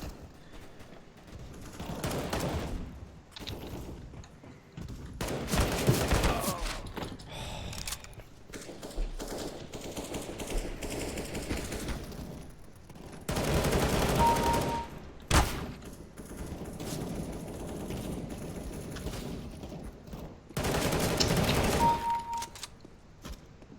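In the game CS:GO, gunfire comes in repeated bursts of rapid automatic shots and sharp single cracks, loud and fairly close, with quieter gaps between the volleys.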